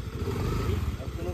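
A new scooter's engine runs with a continuous low droning hum throughout, close and steady, while people talk over it.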